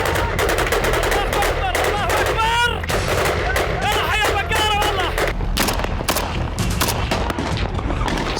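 Dense gunfire in Syria, rapid cracking shots and bursts layered over a loud chaotic backdrop with possible shouting, steady throughout.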